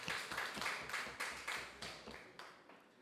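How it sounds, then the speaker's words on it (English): An audience applauds after a school debate, a thin, faint patter of scattered claps in quick, uneven bursts that gradually fades. "Let's give them another round of applause."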